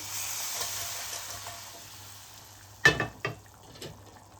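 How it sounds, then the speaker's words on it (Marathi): Hot tadka of oil, chili powder and coriander poured into whole masoor dal: faint steady sizzling, then a sharp loud hiss as it hits, followed by a couple of quick bubbling bursts that fade. "तडका हा मोसरामध्ये घालू"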